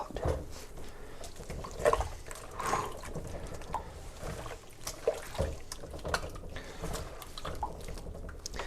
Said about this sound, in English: Start kneading again with hot water.